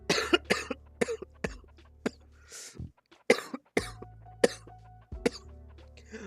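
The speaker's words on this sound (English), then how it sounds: "this cough came out of nowhere." A person coughs repeatedly, in a run of sharp, close bursts of uneven spacing, some hoarse and throaty, with short quiet gaps between them and no speech.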